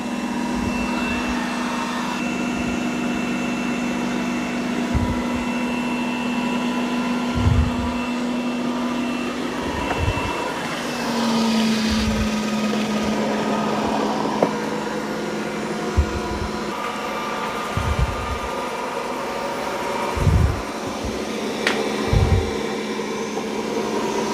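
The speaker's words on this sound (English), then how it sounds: "it's finishing up vacuuming the carpet" A Eureka J15 Pro Ultra robot vacuum runs steadily over carpet, its loud continuous motor whine droning throughout, broken by occasional brief bumps and thuds close by.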